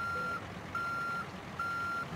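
A reversing truck in the American Truck Simulator game gives three evenly spaced, sustained electronic beeps, clear but moderate in level over a low engine rumble.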